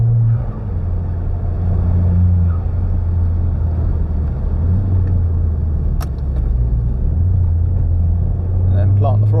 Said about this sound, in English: it's going to be a lot of like low gears and trying to pull out of corners